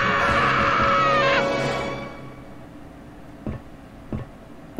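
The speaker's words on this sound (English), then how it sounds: "Why did I scream like that?" A person lets out a loud, shrill scream lasting about a second and a half, which then fades into near quiet broken by a couple of soft knocks.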